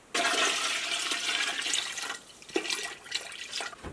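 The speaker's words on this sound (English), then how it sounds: "and then I'm going to add the vinegar." Water pours and splashes steadily into a 21-quart pressure canner holding bones for broth, a continuous wet rush with a brief lull and renewed splashing near the end.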